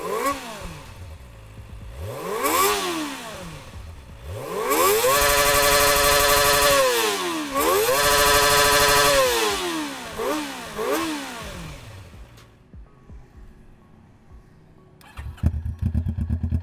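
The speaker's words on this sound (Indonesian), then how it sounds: "gimana kalau kita dengerin kedua raungan dari motor-motor ini" Kawasaki ZX25R and Kawasaki ER6N motorcycle engines rev up and down in repeated rising and falling sweeps, loud and close, then idle down before a brief final burst.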